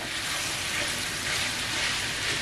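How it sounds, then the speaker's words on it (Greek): Minced beef and onions sizzle steadily as they sauté in a frying pan, a dense, continuous frying hiss close up with no pauses or talk. "Τον σπάμε και συνεχίζουμε το σοτάρισμα"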